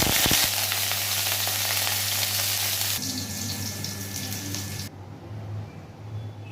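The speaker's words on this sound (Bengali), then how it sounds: "সর্বপ্রথমে উচ্ছেটা আমি ভেজে নেব।" Bitter gourd frying in oil in a pan, a dense steady sizzle with a low hum behind it that abruptly drops to a quieter hiss, then softer still.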